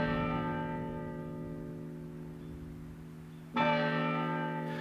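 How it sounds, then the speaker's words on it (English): A church bell in Charleston tolls, one long ringing strike fading slowly before a second strike lands near the end, each leaving a sustained metallic hum with no voices. "A bell in Charleston tolled the succession of departing states."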